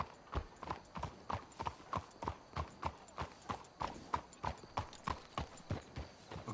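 Horse hooves clip-clop in a steady, even trotting rhythm in the video game Red Dead Redemption 2, with many evenly spaced clear strikes, moderately close and without talking.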